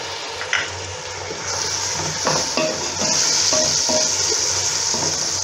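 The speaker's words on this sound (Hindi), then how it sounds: "टेबल स्पून अदरक लहसुन ऐड कर रही हूँ" Ginger garlic paste sizzles steadily in a pan with browned onions, with a continuous hiss and occasional stirring clicks and scrapes.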